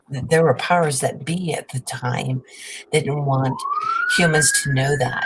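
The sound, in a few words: siren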